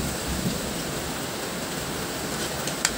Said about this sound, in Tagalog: Narinig nyo guys, malakas ang ulan.